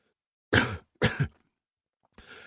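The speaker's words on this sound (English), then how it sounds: "coughed as the man released him" A man coughs after being released from a grip on his throat: three harsh, close coughs, two quick ones and then a rougher one, with near silence between them.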